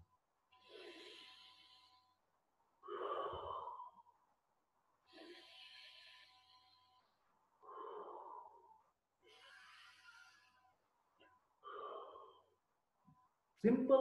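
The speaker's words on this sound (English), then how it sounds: "Simple deep breathing exercises, pranayama." Deep rhythmic anuloma viloma pranayama breathing, with slow alternating inhales and exhales in regular cycles about every two and a half seconds, close and airy in a quiet room.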